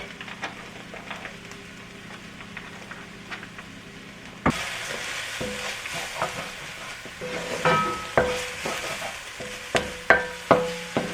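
A spoon stirs and scrapes spices and sage blooming in hot oil in a soup pot for white bean and kale soup, giving a steady sizzle with rhythmic scraping strokes that grow louder toward the end, close and with no voices.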